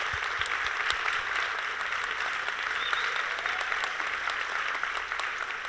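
Sustained applause from an audience at an education conference session, steady dense clapping throughout at moderate level, no voices standing out.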